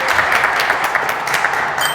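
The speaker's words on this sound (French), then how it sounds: "On peut les applaudir" A game-show audience applauds the winning team after a close quiz match, loud continuous clapping holding at an even level for the whole moment.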